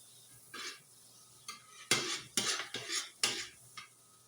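Garlic and ginger being sautéed for meatballs in a pan, heard as a run of metal utensil scrapes and clinks against cookware, several short clattering strokes in irregular rhythm, close by with no talking.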